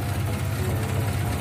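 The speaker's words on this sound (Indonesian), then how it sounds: "bunyinya mesin senyap, mesin sehat" A 1993 Suzuki Katana with a healthy, quiet engine idles in a short, steady low hum with an even, unbroken drone.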